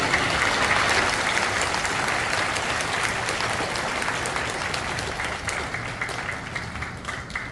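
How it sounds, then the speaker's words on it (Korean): A church congregation applauding during a worship service, a full, sustained roar of clapping from a large crowd that stays dense and even, easing only slightly toward the close. "목사님 나오실 때 주님께 영광의 박수 할렐루야."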